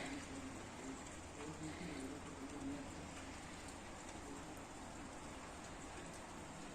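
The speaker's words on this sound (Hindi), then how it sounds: "और हल्की हल्की सी बारिश हो रही है, किनमिन पड़ रही है।" Light rain patters softly and continuously in the background in Italy, with faint bird cooing mixed in, fairly quiet and distant.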